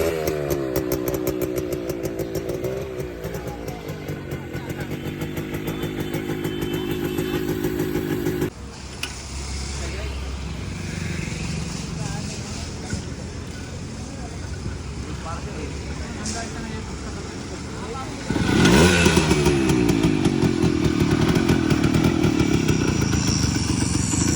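A modified Yamaha RX100 motorcycle engine runs with a steady, loud drone, and people talk over it. The engine grows louder near the end.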